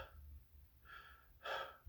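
A person's voice imitates labored COVID-19 breathing: three short, raspy gasping breaths in quick succession, close and fairly quiet, the last one the strongest.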